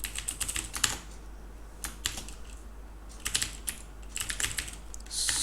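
Someone types C++ code on a computer keyboard, with close, crisp key clicks in quick irregular clusters separated by short pauses, over a low steady hum.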